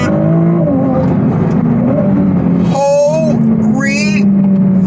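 A Ferrari's V6 engine drones steadily at close range and surges into a rising rev, with voices talking briefly over it.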